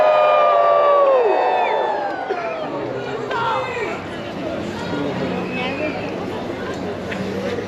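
A festival crowd at a Dickens holiday celebration cheers and whoops loudly for a costumed Queen Victoria, a burst of shouting that settles into steady mixed chatter and scattered calls.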